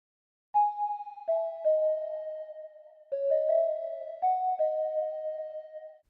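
A synthesized bell melody programmed in FL Studio for a beat plays alone: a clean sequence of sustained, ringing tones that step between pitches, with a short silence at the start.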